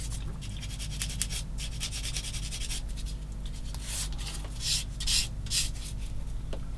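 Repeated rubbing strokes of soft sanding material on a plastic part of a 1/16 scale Takom M10 IIC Achilles tank destroyer model, close and fairly quiet, in uneven bursts over a steady low hum.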